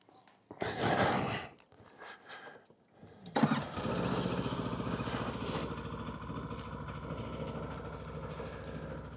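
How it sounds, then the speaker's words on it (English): A 2026 CF Moto 700MT motorcycle engine settles into a steady low burble after a couple of short revs, running close and continuous with no talk. "A nice reassuring burble."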